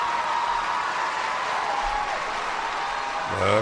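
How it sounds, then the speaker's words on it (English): Canned applause plays as a steady, even wash of clapping with no breaks, loud and constant for a few seconds before a short shift at the end. "Nothing like canned applause, right?"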